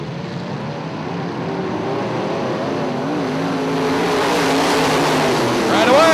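IMCA modified race cars roar around the raceway track at Ionia Raceway Park, a dense, loud layered engine drone with rising pitches as cars pass, a commentator talking over the noise throughout.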